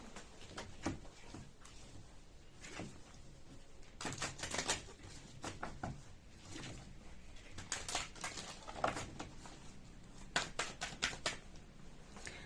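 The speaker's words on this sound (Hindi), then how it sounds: "जल्दी से हम कार्ड्स को शफल कर लेते हैं" A deck of tarot cards is shuffled close by in quick, crisp bursts of flicking and riffling, with brief pauses between rounds and no voices.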